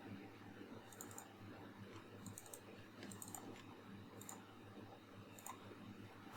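Mouse clicks while selecting strokes in Adobe Animate, small sharp clicks coming in quick pairs and clusters at intervals over a quiet room hum, close and faint, with no talking.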